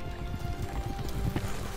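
Horses' hooves clip-clopping as riders come to a halt in a forest, a dense, continuous patter of hoofbeats at close range that fills the whole short moment without voices.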